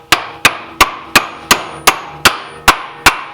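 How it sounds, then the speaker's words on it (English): A bronze mallet taps a machined part into its seat during M57 maintenance, nine sharp metallic strikes at an even, steady rhythm, close and loud with brief ringing decay and no talk. "I'm going to use a bronze mallet just so that I don't damage it"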